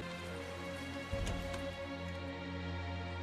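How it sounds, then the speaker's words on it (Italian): Rain falls steadily on a town in the video game Tales of Zestiria as a soft, constant patter. A brief louder splash or knock comes near the middle, and a low game tone hums underneath. "Spero che poi più avanti toglieranno la pioggia"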